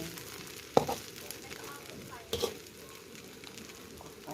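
Rice and egg frying together in a pan, a soft steady sizzle with two brief sharper clatters of stirring or scraping, close and fairly quiet, no talk.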